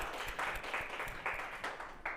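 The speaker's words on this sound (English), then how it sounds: "can we have a big round of applause for all of you?" A conference audience gives a round of applause after a property and estate agency talk, steady dense clapping heard at a distance and fairly quiet, with no speech over it.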